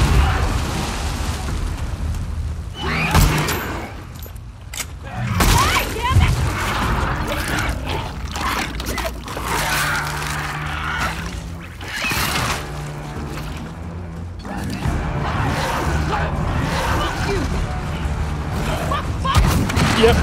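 Explosion going off in The Last of Us Part II, a few heavy booming blasts bursting through dense, continuous game noise and rumble over about twenty seconds.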